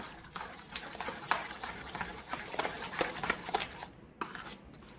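Soaked semolina batter for rava dhokla mixed by hand in a bowl, with quick repeated wet scraping and slapping strokes in an uneven rhythm, close and soft, pausing briefly near the end before resuming.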